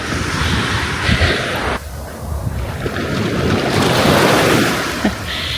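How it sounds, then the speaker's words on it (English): Ocean waves surge and wash up on a beach lined with colorful small huts, a steady broadband roar with swells and a brief dip, mixed with wind buffeting the microphone, close and fairly loud with no talking. "Playing chicken with the waves."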